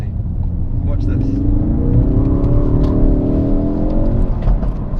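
A Ford Focus RS accelerates hard, its engine note rising steadily in a loud, close interior rumble over several seconds, with people talking over it.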